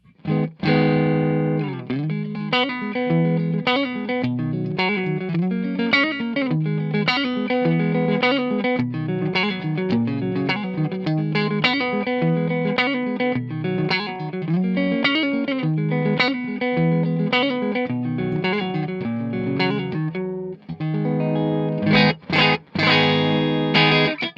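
A distorted electric guitar plays loud chords and riffs through an Orange AD30 amplifier with heavy effects, steady and full throughout, with a few sharp strums near the end.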